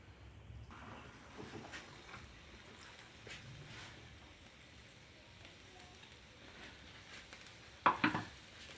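Garlic is dropped into hot desi ghee for a tadka on moong dal cooked village style, giving a soft steady sizzle and crackle with faint clinks and a sharper metallic clatter near the end.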